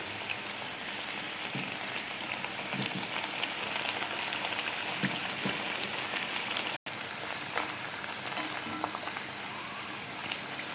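Pepper vada (milagu vada) deep frying in hot oil, a dense, even crackling bubble like light rain that holds steady and fairly quiet throughout, with one brief dropout midway.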